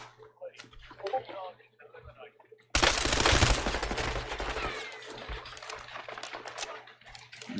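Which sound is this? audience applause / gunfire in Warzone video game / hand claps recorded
gunfire in Warzone video game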